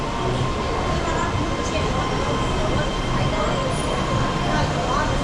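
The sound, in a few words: passenger train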